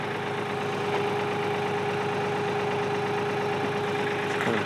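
A tractor engine idles steadily nearby, a continuous mid-pitched rumble with a faint knocking pulse, running alone at moderate volume.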